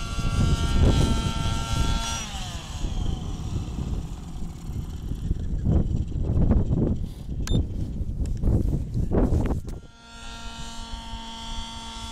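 Model helicopter engine with a well-tuned carburetor, climbing at full collective: a loud, continuous rotor and engine drone with shifting pitch and throttle surges, easing off near the end.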